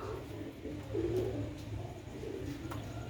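Sialkoti pigeons on a rooftop give soft, low cooing calls, faint and close, over a steady background hum with no talking.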